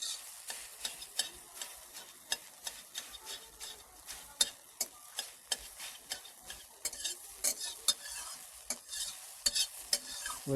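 Eggs fry in a pan under a soft, steady sizzle while a utensil stirs and taps against the pan in quick, irregular scrapes and clicks, fairly quiet and with no voices.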